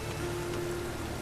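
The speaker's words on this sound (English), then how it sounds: "Rain again." Steady rain in The Witcher 3: Wild Hunt patters continuously on a surface, a dense even hiss with a low hum beneath, no voices.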